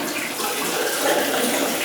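Hot water runs steadily from a sink tap with a swan- or goose-shaped faucet, a close, continuous hiss and splash with no voices.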